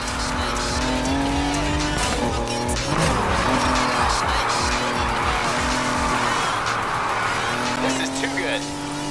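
Car drifting in the video game NFS Heat, with a loud sustained engine drone and long squealing tire slides, mixed with excited commentary throughout.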